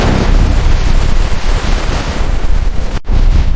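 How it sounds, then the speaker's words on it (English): A bridge span and car plunging into the freezing water of Puget Sound in a video game, a loud, sustained roaring splash and surge of water filling the clip before cutting off abruptly near the end. "The splash rose high into the air, and then the water closed over the wreckage."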